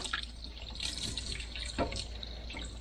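Tap water runs steadily into a sink while juicer parts are rinsed, a soft continuous splash with small drips and clatters, fairly quiet and close.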